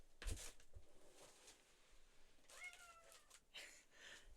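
A house cat meows a few times indoors, short, fairly faint calls spaced apart, with small knocks and thumps around them and no talking.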